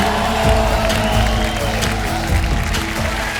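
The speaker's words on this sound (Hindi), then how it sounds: "जोरदार तालियां काजल जी के लिए हो जाए।" Studio audience applause and cheering on a Hindi TV comedy show, a dense, steady wash of clapping with crowd voices that stays loud and close throughout with no single speaker standing out.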